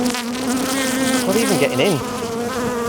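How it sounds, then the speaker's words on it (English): Swarm of bees buzzing loudly and close around a beekeeper in a bee suit, a steady dense drone with individual bees whining past, and a brief spoken question partway through. "This is where all the flying bees are"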